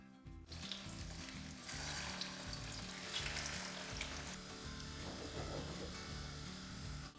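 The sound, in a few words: meatballs frying in hot oil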